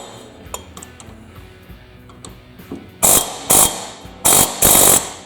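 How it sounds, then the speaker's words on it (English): An air hammer fitted with a point bit knocks on a rusted riding mower bolt, hammering in four loud, sharp bursts after a quieter stretch of faint clinks and workshop noise. "use an air hammer that's got a point on it"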